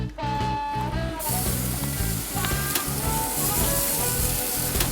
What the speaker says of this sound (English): That's the sound of a great sear.